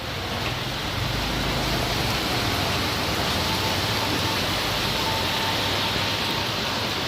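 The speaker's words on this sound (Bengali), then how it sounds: "এই যে আমাদের এখানে খুব বৃষ্টি পড়তেছে" Heavy rain pours steadily, a dense, continuous hiss filling the whole clip at constant loudness with no voices.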